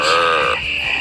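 Frogs croaking in the 1995 Budweiser Frogs Super Bowl beer commercial, a loud close, drawn-out croak sliding down and then a second lower grunt, alone with no talk.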